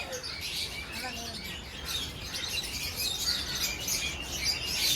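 Parrots and small birds chirp in an aviary near Hogenakkal Falls, a busy mix of high tweets and calls moderately close, with people talking quietly in the background.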